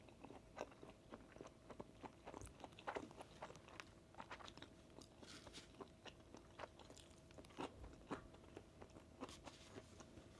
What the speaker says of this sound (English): Squid tail also nice, more crunchy than the body.